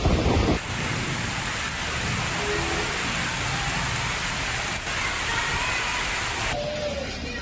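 Heavy rain pours down in a dense, steady hiss during India's monsoon flooding, loud and unbroken, with a brief cut near the start and a dip in level toward the end.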